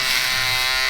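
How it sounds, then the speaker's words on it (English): Andis Profoil electric foil shaver working on a neck during a barbershop fade and beard shape-up, a close, steady high buzz lasting under a second. "also using the Andis Profoil every once in a while"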